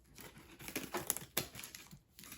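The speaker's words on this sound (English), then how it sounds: "I'm going to try to use my other scissors so that I can make a larger cut." A paper gift bag is cut with a larger pair of scissors: a few quiet, crunchy snips with papery crinkling and rustling, close by and brief, with no voices.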